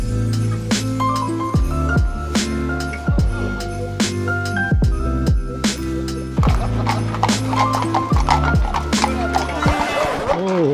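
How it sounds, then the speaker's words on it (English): Horse-drawn carriages clip-clop along a busy street in wintertime Vienna near the Stephansdom, with loud, close, irregular hoofbeats from several horses overlapping, a faint metallic clink, and a background of crowd murmur. "Stuck in the middle of the horse carriages."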